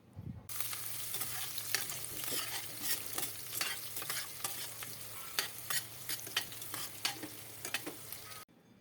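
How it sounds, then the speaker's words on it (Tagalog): Chopped onion sautéing in a pan as the base for a Filipino tomato sauté with anchovies, a steady close sizzle with repeated scraping stirs, fairly faint, no talking. "magsasatay naman tayo ng ating sibuyas"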